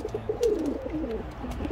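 Racing pigeons coo softly in a loft, low repeated warbling calls close by over a faint background hum.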